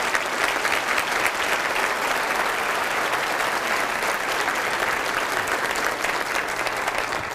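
An audience at a school district's State of the Schools event applauds its principals, a dense, steady round of clapping that stays loud and even for several seconds with no voices over it.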